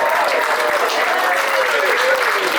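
A crowd at an American vehicle festival claps together in dense, continuous applause, loud and fairly near, with cheering and shouting voices mixed in.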